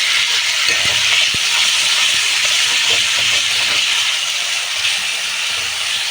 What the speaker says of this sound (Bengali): তো এখন আলুটা আমি ভাজার জন্য ছেড়ে দেবো কিছুক্ষণ